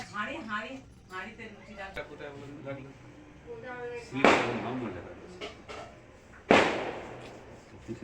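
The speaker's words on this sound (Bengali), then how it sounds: "তোমরা ভাবছো কিসের আওয়াজ হচ্ছে ওগুলো বাজি ফাটাচ্ছিল বাজির আওয়াজ" Two sharp firecracker bursts crack out loudly, one near the middle and another a couple of seconds later, each with a bright splashy tail, while a voice talks steadily throughout.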